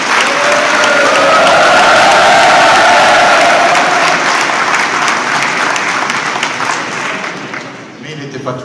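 Loud, sustained applause from the audience at a gendarmerie graduation ceremony for a promotion of student gendarmes, with cheering voices rising within the clapping, which fades slightly toward the end.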